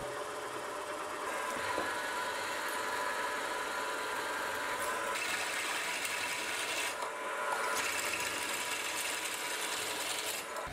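A twist drill bores a hole in metal for a boring head's adjustment screw and dial, giving a steady, close grinding rasp that runs unbroken for about eleven seconds with slight shifts in tone.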